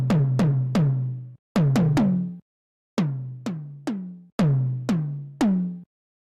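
A dry drum pattern thick with analog-modeled clipping distortion: punchy hits in short bursts with gaps, the low thumps and bright snaps fattened and gritty, no voices.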